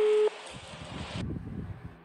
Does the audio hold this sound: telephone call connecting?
yes